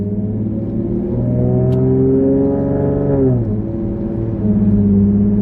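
A 3.7L V6 Mustang engine hums steadily, its pitch rising smoothly as it accelerates under quarter throttle, then dipping briefly before climbing again; close and continuous.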